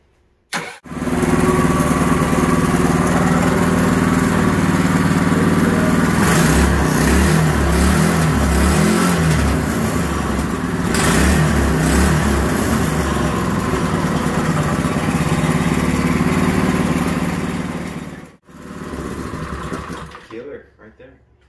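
A Predator 212 7 hp small gasoline engine with governor bypass and free exhaust sputters to life and runs steadily at a buzzing, high idle for about twenty seconds before cutting out briefly.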